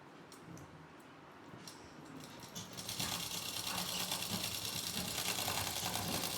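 Sewing machine stitching a seam on a suit, quiet at first, then settling into a steady, fast, close mechanical whir that runs to the end.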